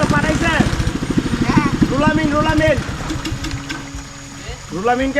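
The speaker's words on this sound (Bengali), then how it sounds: "ওই যে আসতেছে বোট শব্দ শোনা যায়" An approaching motor boat on the Sangu river in Bandarban gives a steady low engine drone under loud, continuous talking.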